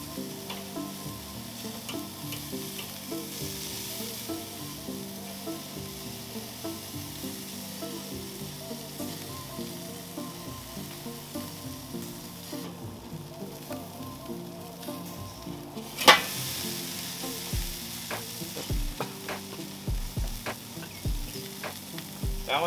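Food frying and charring in a pan for smoked bacon burger beans, a steady sizzle that runs throughout with occasional sharp pops and utensil clicks, one louder clatter midway.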